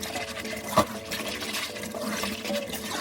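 Cold water rushes and splashes steadily as boiled taro is rinsed in a kitchen, with a brief clunk partway through.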